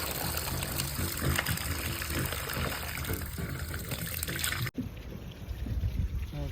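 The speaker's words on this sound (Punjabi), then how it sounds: "ਹੁਣ ਪਾਣੀ ਵੇਖੋ ਕਿੰਨੇ ਪ੍ਰੈਸ਼ਰ ਨਾਲ ਨਿਕਲਦਾ ਪਿਆ ਆ" A strong, continuous rush of water forced out of a pipe by a pump under pressure, loud and close, briefly cut off near the end before resuming.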